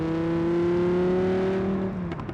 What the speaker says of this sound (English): Combined with that glorious sound out of that V10